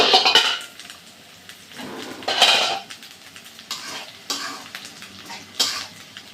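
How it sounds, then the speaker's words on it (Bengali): Metal pot lid lifted off a cooking pot of lentil and taro stolon curry, with several sharp clinks and clatters spaced apart over quieter kitchen background. "আমি ঢাকনাটা তুলে নেব"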